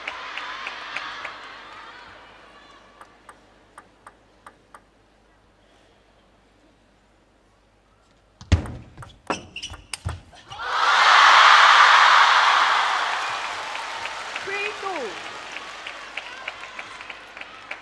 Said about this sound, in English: the noise of the crowd just drowning everything out